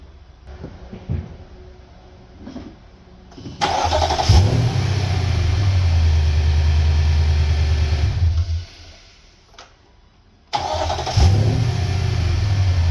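A Nissan Y62 starts after a starter motor replacement: a few quiet clicks, then the engine cranks and catches into a loud, steady idle, cuts off, and fires up again with a quick rev.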